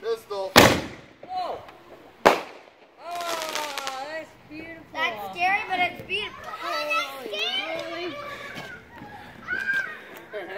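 Pink Pistol fireworks go off outdoors at a holiday weekend gathering: two sharp loud cracks, then whistling, crackling bursts while children shout and talk excitedly over them.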